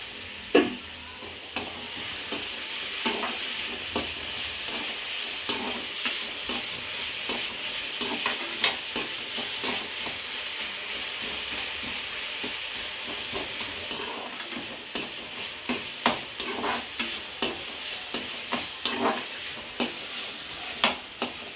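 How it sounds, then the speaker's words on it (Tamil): Tomatoes sautéing in a pan for a Sunday home-cooked meal, a steady sizzle and hiss under a spatula scraping and stirring in rhythmic strokes, close and continuous with no talking. "இதை நல்லா வதங்கணும்"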